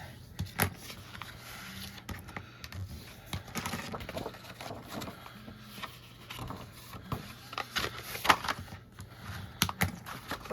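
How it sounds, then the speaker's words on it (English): Bone folder creasing and burnishing paper score lines, close scraping strokes and soft rubbing with irregular taps and rustles, quiet and continuous. "we're going to bring in our bone folder, and we're going to fold and burnish all the score lines"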